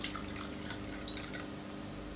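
Water is poured into a glass, soft trickling and small splashes coming in short irregular bursts over a steady low background hum.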